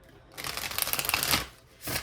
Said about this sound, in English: just hang tight with me for a minute while I try and do a shuffle or two